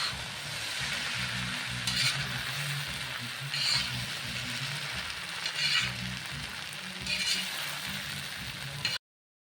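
Cooked chicken stir-fried in a wok for Bengali-style street-food chicken chow mein, giving a steady sizzle with a low rhythmic scraping of the spatula and a few brighter clanks of utensil on the pan, no talking.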